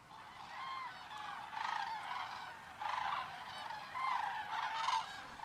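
A flock of common cranes migrating in autumn over the Pyrenees valleys gives repeated trumpeting calls in several loud bursts, bugling together at a steady distance.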